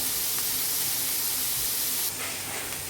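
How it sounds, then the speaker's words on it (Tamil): Chopped vegetables tossed into hot oil for veg noodles, giving a loud, steady sizzling hiss that fills the whole clip and eases slightly near the end. "சூடு பண்ணதுக்கப்புறம் கட் பண்ணி வச்சுருக்க வெஜிடபிள்ஸ் எல்லாத்தையும் அதில் போட்டு நல்லா கலந்து விட போகிறோம்"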